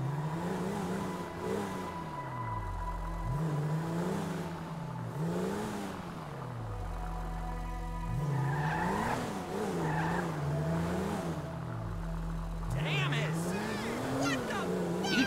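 A car driving around a city block in Grand Theft Auto V, engine droning in repeated rising and falling sweeps with tire skids, voices talking over it.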